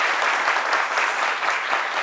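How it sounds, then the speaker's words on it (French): A crowd claps continuously, steady dense applause for about two seconds with no voices standing out. "On peut encore applaudir, hein?"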